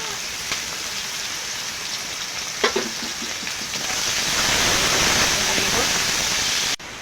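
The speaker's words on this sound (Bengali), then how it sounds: "তেলটা গরম হয়ে গেছে দিয়ে দেবো পেঁয়াজ কুচি রসুন কুচি" Chopped onion and garlic hitting hot oil while cooking chicken kosha, a steady loud sizzle and crackle that swells and stays dense, with a few sharper pops of stirring near the start.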